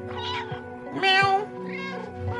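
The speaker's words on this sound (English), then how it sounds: "I'm pressing circle to meow." A cat meows in the video game Stray, three drawn-out, mid-pitched calls spaced about half a second apart, close and clear with no talking.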